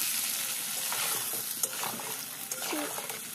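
Ground spices fry and get stirred in a pan for a rui fish curry with flat beans and potatoes: a steady close sizzle with soft scraping strokes of the spatula, no talking.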